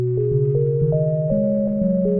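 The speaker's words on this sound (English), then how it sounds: "Could also do the same thing, only 1 octave down and then -7 semitones down." A tape sample pitched down one octave and seven semitones on a sampler plays short stepping notes in a low, buzzy register, with several pitch changes over about two seconds, steady and loud.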